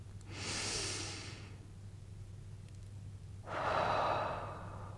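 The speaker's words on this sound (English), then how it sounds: "take a deep breath with me" Slow deep breaths during a guided meditation: a long airy inhale near the start, a quiet pause, then a fuller, louder exhale-like rush, close and alone over a low steady hum.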